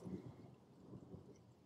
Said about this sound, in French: Il pleut très fort.